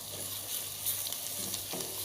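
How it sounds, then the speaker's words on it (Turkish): Steady frying sizzle of green onion, green garlic and minced meat in hot oil in a pot for an Antep-style olive börek filling, continuous and close, with a light scrape of stirring near the end. "Biraz da bunlar kavrulacak yağda."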